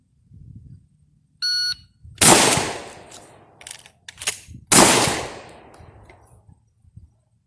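Shotgun fired twice at a competition shooting stage, each blast loud and sharp with a decaying tail, preceded by a short electronic start beep and with handling clatter between shots as the gun is reloaded.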